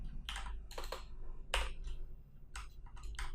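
Typing on a computer keyboard while writing HTML, with quick bursts of close, crisp key clicks separated by short pauses.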